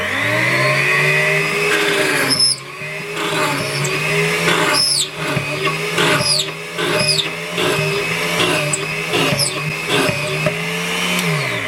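A high-speed Dremel bench drill's motor whines steadily while the bit grinds and squeals in repeated bursts, the pitch dipping under load, close and loud.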